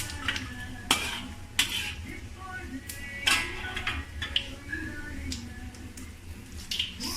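Fennel seeds, star anise, cloves and mustard seeds stirred in hot oil while making tomato spicy chicken, with scattered sharp utensil clinks against the pan over a low background hiss.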